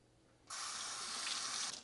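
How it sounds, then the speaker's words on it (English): Tap water gushing to rinse the brew head of a Flair Pro 2 espresso maker, a steady close hiss of running water that starts abruptly and flows without a break. "I give the brew head a quick rinse of water"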